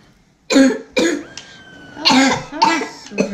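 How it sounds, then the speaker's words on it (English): A person who is a little sick coughs several times in close succession, loud and near, with a faint tonal game sound in the background between coughs. "I'm gonna cough on you guys"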